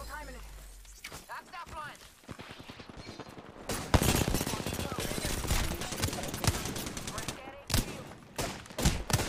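Rapid video game gunfire crackles in bursts and single shots, loud and close, with a player talking over parts of the action.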